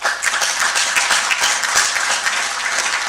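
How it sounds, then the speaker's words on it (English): A conference audience gives a warm round of applause, many hands clapping loudly and continuously for a few seconds without speech. "let's have a round of applause for the government"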